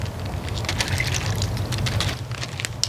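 Water is poured to measure out half a cup for a homemade slushie in a sandwich baggie, a close, steady trickling splash running for about three seconds over a low background hum, with no talking.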